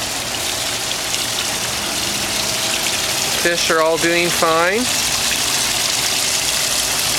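A garden pond waterfall pours in a steady, loud, continuous rush of splashing water, close by, while someone speaks briefly over it.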